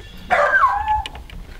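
A single sharp, close dog bark with a falling, whiny tail, followed by quiet outdoor background noise.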